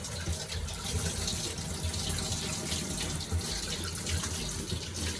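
Water runs from a kitchen sink faucet into the basin while someone cooks pork adobo, a close, steady rushing stream that never stops.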